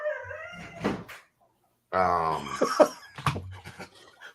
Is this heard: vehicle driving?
no